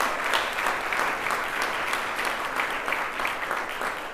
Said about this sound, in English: You don't feel like you have to applaud for me